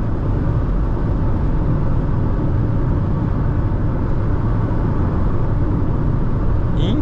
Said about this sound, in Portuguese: Gostei de ver, cara, como que o diesel trabalha na subida